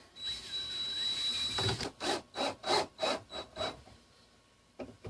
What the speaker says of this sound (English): I'm going to put a couple more screws in this thing